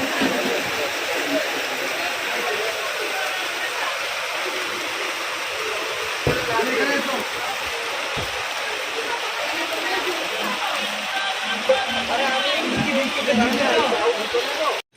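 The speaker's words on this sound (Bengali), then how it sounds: "বাজারে এলাম আর বৃষ্টি" Steady rain falling over a market, a continuous dense hiss of water that stays even and close for the whole stretch, with occasional faint low knocks underneath.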